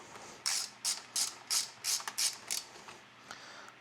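Ratchet wrench tightening the mount bolts of a ZESUPER 9500 lb winch on a 2020 Jeep Wrangler JL, giving seven or eight rhythmic rasping clicks close up, then a few fainter ones.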